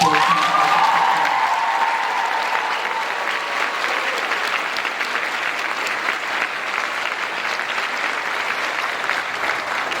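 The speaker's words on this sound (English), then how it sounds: "please give him a huge round of applause" An audience applauds steadily at a school theatre company's production of Cinderella, a dense wash of clapping that carries on evenly throughout, with a brief tone fading at the start.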